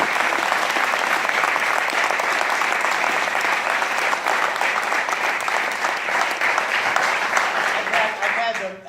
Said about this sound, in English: If I could get them a round of applause.